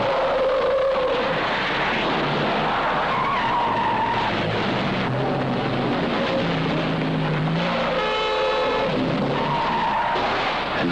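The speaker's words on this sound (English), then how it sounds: "he's done more stunts in Fiats than in any other car." A 1970 Fiat 124 family car performing stunts, its tyres skidding and squealing in repeated long screeches over engine noise, loud and close throughout with no talking.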